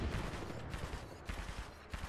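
Enemy gunfire in a video game, shot from a rooftop at the player: a steady, dense rattle of rapid shots lasting a couple of seconds, fairly loud, with no talk over it.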